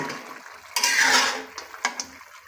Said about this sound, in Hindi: 5 मिनट हम इसको इस मसाले के अंदर भूनेंगे।